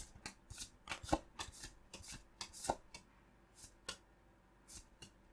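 Pokémon trading cards slide and flick out of a tight booster pack in a quick series of crisp papery snaps and riffles, close and isolated with no talk.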